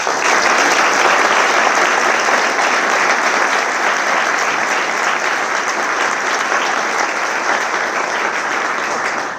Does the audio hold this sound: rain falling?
no